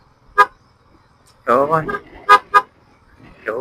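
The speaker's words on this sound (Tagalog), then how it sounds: "ito pala yung busina niya guys. Pakinig yung busina." Two short, sharp horn toots from a nearby motorcycle, a Yamaha Sniper 150, separated by bursts of people talking.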